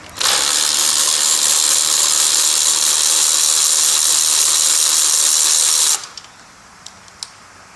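Ratchet wrench rapidly clicking while removing ignition coils on a 2009 VW GTI 2.0T with nearly 200,000 miles, a continuous dense ratcheting for about six seconds, then stopping, followed by a couple of small metallic taps.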